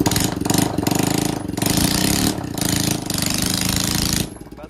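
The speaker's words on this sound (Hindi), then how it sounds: "अभी मैंने अपना साइलेंसर निकाल दिया है, अभी फिलहाल स्कूटी का आवाज सुनना" A scooter engine with its silencer removed revs loudly and raw, its rough, rattling exhaust note rising and falling in several bursts with brief dips between, close and dominant throughout before easing off at the end.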